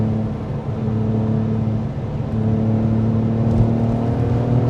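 A Porsche 911 Carrera 996 engine pulls steadily under acceleration from inside the car, a continuous loud droning hum with a slight rise in pitch and no speech.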